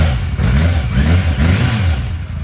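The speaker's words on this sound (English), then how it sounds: "Nice civilized exhaust, nice and quiet, very much stock." A motorcycle engine revs up and down in steady swells, a fairly mellow stock exhaust note, close and continuous with no talking.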